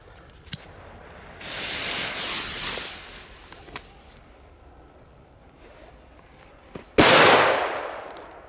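Bufalo-series petards, including Colpo, Pirata, Vespa, Zanzara and Piccolo firecrackers, are set off in a test. Sharp pops and a long hissing burst come first, then one loud close bang followed by a spraying, crackling tail.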